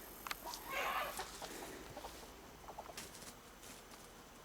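Chickens and a rooster in a garden pen give a few soft clucks amid scattered scratching and pattering, faint and close, with no one talking.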